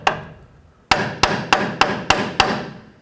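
Metal hammer blows strike a bolt on the front upper control arm of a 2007-14 Chevy Silverado pickup: one opening hit, a pause, then six sharp, evenly spaced ringing strikes, each decaying quickly, close and loud with no talk.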